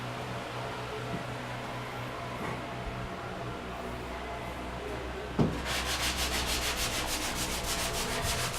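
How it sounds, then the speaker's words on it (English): Steady abrasive sanding of wood, a continuous rubbing hiss that runs throughout, with a sharp knock partway and a brighter, slightly pulsing scratch afterward. "Sanding and such."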